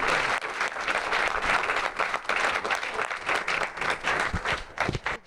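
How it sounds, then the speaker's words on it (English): Audience applause for a panel of speakers at a local business growth event, a dense, steady round of clapping filling the room, thinning into scattered claps near the end. "if we could just have the final round of applause for our speakers"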